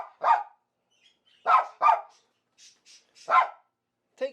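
Dog barking on a rainy walk, about five sharp, close barks in irregular bursts separated by quiet gaps, with a few softer yips in between.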